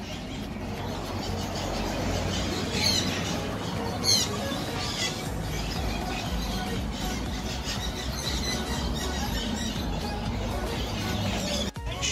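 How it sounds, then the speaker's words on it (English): Parrots at a bird park in St. Maarten, home to 150 birds of 27 species, give scattered squawks and squeals over dense, constant outdoor noise; the calls are fairly faint and partly masked. "Inside we have 150 birds, 27 different species from around the world."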